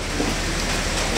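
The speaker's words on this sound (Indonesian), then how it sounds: "pada acara ini turun hujan" Rain falling outdoors during a governor's speech event in Tasik, West Java, heard as a dense, steady wash of hiss with no voice present.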